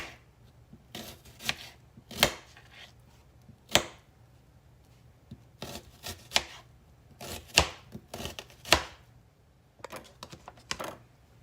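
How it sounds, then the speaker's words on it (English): Knife chopping half a purple onion into thin slices on a cutting board, a series of sharp, separate taps arriving irregularly, some in quick clusters, close and fairly quiet with no talking. "now we're going to chop us up some of the onion"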